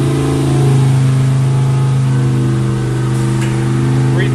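A dyno-room engine revs hard and steadily through a sustained pass on the dynamometer, with a loud, dense, constant drone and a low fundamental holding firm for the whole stretch.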